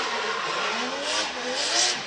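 The Team Kazuma drift car on Motis ZN686 comes in hot at a 2021 Formula Drift Japan round, a loud continuous engine roar mixed with tire squeal as it slides into the zone.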